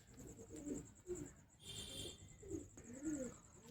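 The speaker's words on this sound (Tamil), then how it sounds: "ஊசி ரக்க புறா" Needle-feathered pigeon cooing in a loft, several soft low coos in a repeating rhythm, close and moderately loud over a steady high background tone.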